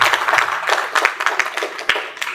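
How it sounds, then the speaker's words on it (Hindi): Audience at a panel discussion on Ghazipur's roots, identity and language at a literature festival, clapping in a scattered, uneven patter of many hands, moderately loud and continuous for a couple of seconds. "एक बार तो उनको याद कीजिए, उनके नाम पर ताली बजा दीजिए"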